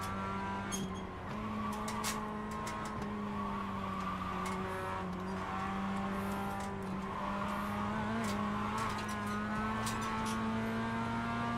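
Onboard sound of a Mazda MX-5 race car at Lime Rock Park, engine humming steadily and rising and falling through gear changes, with occasional short tire squeals, close and continuous.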